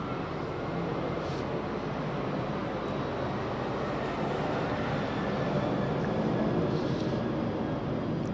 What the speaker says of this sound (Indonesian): Pesawat lewat ini tadi kan fakta yang tiba-tiba.